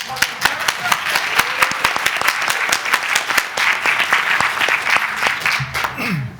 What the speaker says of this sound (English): Clap your hands as loud as you possibly